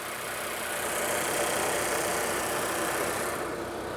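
A 2023 Nissan Sentra SV engine idles steadily and close by, a smooth, even broadband hum with no talking over it.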